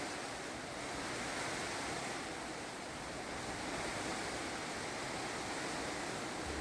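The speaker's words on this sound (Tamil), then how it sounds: "எவ்வளோ சூப்பராக மழை பெய்யுது பாருங்கள்" Heavy rain pours down in front of a village house in the evening, a steady, dense, even hiss that holds without break and without voices.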